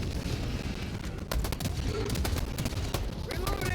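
SMG gunfire in the video game Helldivers 2, rapid bursts of shots running throughout over a dense, loud battle din.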